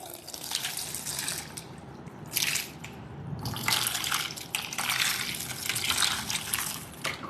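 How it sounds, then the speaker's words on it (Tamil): Water is poured over a model's face to test waterproof makeup, splashing and streaming in several loud bursts with brief pauses between, close up and without talk. "எங்கள் ஸ்டூடெண்ட்காக இந்த ஒரு டெமோ செஷனில் நாங்கள் வந்து தண்ணி ஊற்றி காட்ட போகிறோம்"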